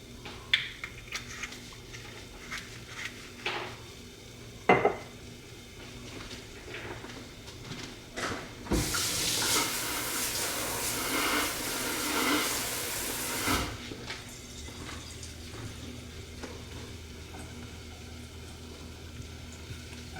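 Ground beef warming with a little olive oil in a pan, a quiet hiss with scattered clicks and clatter, swelling into a louder sizzling rush for several seconds midway before settling back to a faint background.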